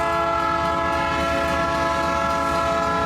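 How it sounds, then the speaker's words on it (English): Train horn sounding at a grade-level road crossing, a loud sustained chord of steady tones held for several seconds over the low rumble of the passing train. "whistles are blown at grade level crossings like these as a safety feature"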